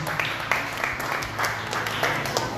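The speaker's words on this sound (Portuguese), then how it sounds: "Aplauda o Senhor Jesus" Church congregation applauding during a deliverance worship service, a short, fairly loud burst of clapping with uneven peaks and a low rumbling room background.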